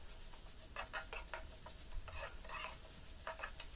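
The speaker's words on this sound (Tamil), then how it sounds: "இப்போது தக்காளி 5 மினிட்ஸ் நல்லா வதங்கட்டும்." Tomatoes sautéing in a pan for a dried anchovy fish curry, with a soft steady sizzle beneath repeated scraping strokes of a spoon stirring the mixture, close and without talk.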